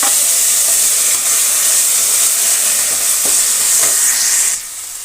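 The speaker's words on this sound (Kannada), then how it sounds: "ಈಗ ಒಂದು ಸ್ವಲ್ಪ ಹುಳಿ ಸೇರಿಸೋಣ, ಹುಣಸೆ ಹುಳಿ." Tamarind goes into a hot pan with tomatoes while making avalakki (poha). A loud, steady hiss of sizzling and frying runs unbroken, then softens abruptly near the end.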